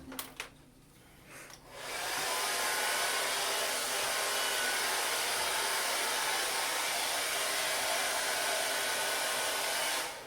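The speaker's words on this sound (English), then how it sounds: "And you hit it with a low power hair dryer." A low-power hair dryer blows across a boy's gelled competition hairstyle, switching on after a brief pause and then running as a steady, even whoosh close by for several seconds.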